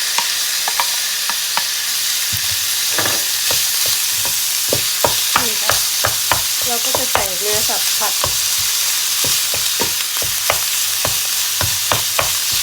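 Chili, pounded garlic and minced beef sizzle loudly in a hot pan for Thai basil beef, with a steady hiss broken by repeated scraping clacks of stirring.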